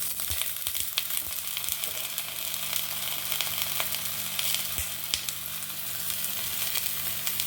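Boiled banana flower being sautéed in a pan with green chillies, a soft, even sizzle of frying with faint taps of stirring throughout, fairly quiet and steady.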